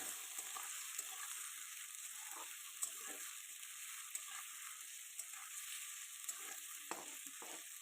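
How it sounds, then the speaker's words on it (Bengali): Chopped onions fry in oil with tempering spices for a chicken curry, giving a steady close sizzle and crackle with small bursts of spattering throughout. "পেঁয়াজটা এবার একটু ভাল লাল লাল করে ভাজবো"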